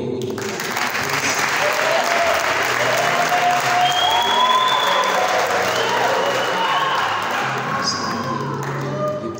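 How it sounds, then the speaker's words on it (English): A crowd at a church awards ceremony claps loudly and continuously for an honoree, a thick wash of hands with scattered cheers, while voices chatter and a few thuds sound beneath it. "We can clap for her, please."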